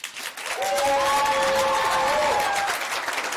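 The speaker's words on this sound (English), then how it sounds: "Give a round of applause." Audience at a middle school pitch competition applauds an Oregon team, a broad steady wash of clapping and crowd noise rising after a brief lead-in and holding, with a sustained tonal whoop or cheer riding over the top.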